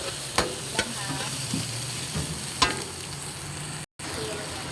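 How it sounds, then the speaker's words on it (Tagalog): A spatula stirs stir-fried cabbage with tofu, spiced with siling labuyo chilies, in a hot pan, giving a few sharp scrapes and clinks over a steady background sizzle. "Haluin natin."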